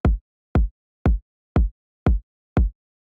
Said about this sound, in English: like a pretty standard, like kind of thumpy trap style kick